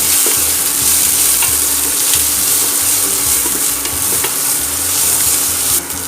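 Curry leaves, garlic, ginger and onion stir-frying in hot oil, a loud continuous sizzle with scattered scraping from the stirring, close up and without talk.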